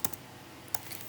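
Computer keyboard keys clacking: two quick presses, a pause, then another sharp tap and softer clicks, close and quiet with no talking.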